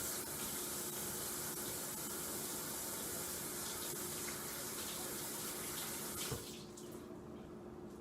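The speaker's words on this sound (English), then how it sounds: "once you've done that, wash your hands again," Tap water runs steadily into a sink while hands are washed beneath it, a close, even rushing hiss that drops off sharply near the end as the flow is turned off.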